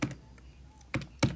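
Fingers tapping keys on a calculator keypad, a few soft scattered presses followed by two sharper, louder clicks close together near the end, with no voices.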